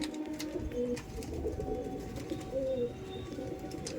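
Several old Giribaz pigeons coo repeatedly at close range, low throaty warbles overlapping against a steady background hum.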